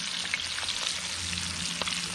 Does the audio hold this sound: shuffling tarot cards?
no